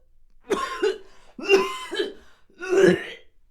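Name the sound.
violent coughing fit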